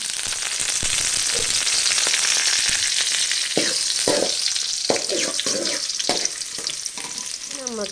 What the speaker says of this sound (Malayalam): ഇഞ്ചി വെളുത്തുള്ളി നമുക്ക് കൊടുക്കാം ഇതൊന്ന് നമുക്ക് ഇളക്കാം